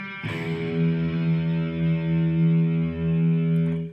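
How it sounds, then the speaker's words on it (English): A distorted electric guitar strums open strings once, and the gritty chord rings out steadily for several seconds without fading much. "normally, when you strum a string, it would sound like this"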